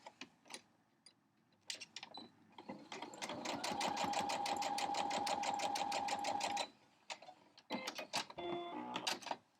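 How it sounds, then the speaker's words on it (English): A sewing machine stitches gray non-cotton fabric strips for a crumb quilt block, running in a steady close rapid whir of needle strokes for several seconds with short start-stop bursts before and after. "So let's do that, and sew this on this edge."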